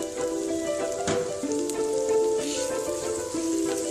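Onions go into a pan of garlic and ginger frying in oil over medium flame, giving a steady, close, crackling sizzle with faint stirring clinks throughout and no speech.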